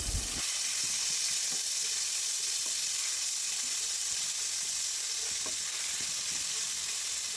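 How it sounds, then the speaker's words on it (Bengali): Cashews, raisins and a cube of ginger fry lightly in hot oil in a pan, giving a continuous loud sizzle with occasional faint stirring clicks and no voices. "কিছু পরিমাণ কাজু বাদাম ও কিশমিশ দিয়ে হালকা ভেজে নিব"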